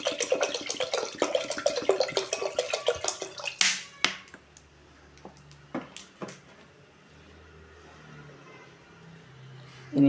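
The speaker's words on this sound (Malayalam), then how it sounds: "1 ലിറ്ററിൽ കുറച്ച് കമ്മിയാണ് ഒഴിക്കുന്നത്." Just under a litre of water is poured into a cooker holding broken wheat for wheat payasam. It makes a steady, splashing rush for about three and a half seconds, then a few faint clinks and small handling sounds follow.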